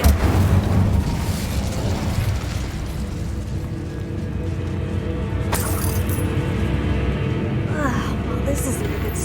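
An Incendio fire spell is cast in the Hogwarts Legacy video game, giving a rumbling, whooshing burst of flame over a dense in-game background, with a sharper crackle partway through and talk nearby.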